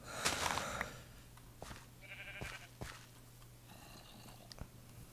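Sheep bleating in the video game Wunschtraum Bäckereifabrik: a few faint, wavering cries repeated over several seconds against a quiet background hum.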